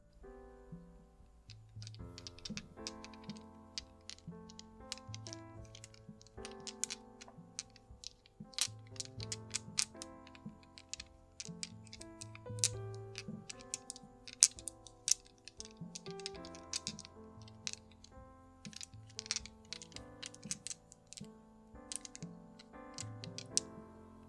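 Six-sided dice click and rattle in small, near, dry bursts, scattered through a quiet space with soft tonal background, no talking.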